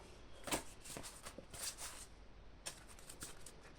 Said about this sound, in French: Je vais reprendre une carte.